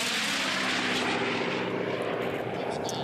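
Unlimited-class racing planes roaring past at the Reno Air Races, a loud continuous piston-engine drone that swells and fades slightly as the aircraft pass.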